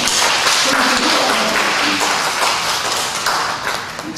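A church congregation applauds during a worship service, a close, busy clatter of clapping that holds steady for a few seconds while voices murmur beneath it.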